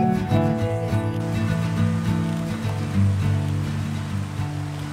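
Stream flowing over rocks along a canyon trail, a continuous close rushing and gurgling of water at steady volume.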